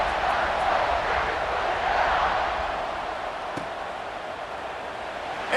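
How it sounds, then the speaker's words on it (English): Broad, steady roar of a stadium crowd at a college football game at Ohio State, dense cheering and chatter in a large space that eases slightly toward the end. "this crowd is buzzing after that last score"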